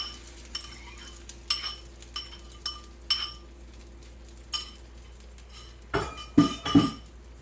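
A utensil clinks and scrapes against a bowl while raw egg is mixed into ground pork, a series of light irregular taps followed by a quicker cluster of clatter near the end, close and clear.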